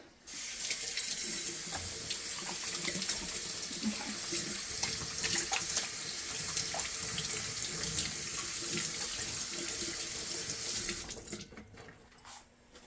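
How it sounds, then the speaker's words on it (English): Hands are washed under a running sink faucet in a home kitchen, a close, steady rush of water with splashing that cuts off near the end. "I'm going to wash my hands."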